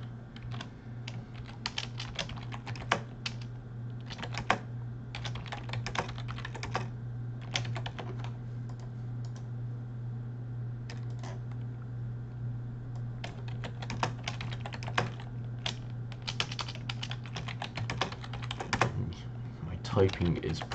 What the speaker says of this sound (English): typing is probably getting annoying